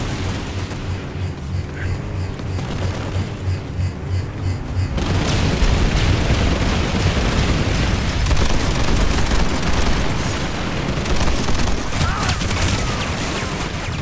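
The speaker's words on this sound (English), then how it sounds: "I burst fired twice, and I nearly took him down" Burst-fire gunshots in Planetside 2, sharp rapid volleys that intensify midway into a dense stretch of booming gunfire and explosions, with talk mixed into the battle noise.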